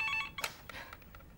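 A telephone rings in a quiet room, a short electronic tone burst followed by softer ringing, fairly faint and heard alone.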